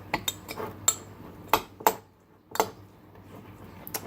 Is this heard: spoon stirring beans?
yes